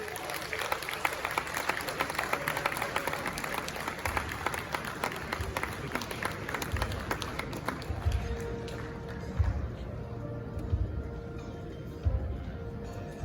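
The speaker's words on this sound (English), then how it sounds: "Shall we do a big round of applause for GH1 TV's Rosemond Akwakoh-Adjetey." A crowd at a media awards ceremony gives sustained applause for a business and economic reportage award winner, a dense steady wash of many hands clapping throughout, with a few low thumps.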